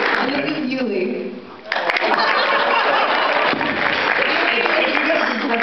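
A convention panel audience at Magfest X breaks into a burst of loud clapping that fills the room and holds steady for several seconds, with scattered chuckles mixed in.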